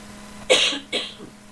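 Two quick, harsh coughs close to the microphone, a short gap between them, followed by a faint throaty trailing sound.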